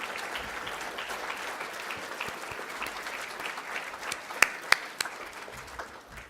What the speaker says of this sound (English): can we give a big appreciative round of applause for all of our parents?